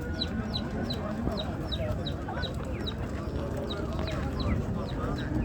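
Many chickens cluck and chirp repeatedly over a busy, noisy background with people talking, like a crowded poultry market.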